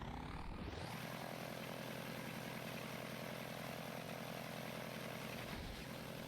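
A French Air Force propeller airplane in BeamNG Drive drones as the engine spins up in the first second, then holds a loud, steady buzzing whine with dense harmonics for several seconds, alone with no talking.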